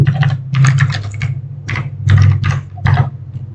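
Loud, close computer keyboard typing as a command is entered in a network terminal configuration, heard as several rapid bursts of clicking keys separated by short gaps over a low steady hum, with no speech.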